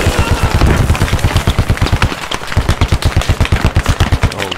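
Rapid automatic gunfire in a video game, a loud and steady stream of evenly spaced shots that pauses briefly midway and then resumes at the same fast rhythm.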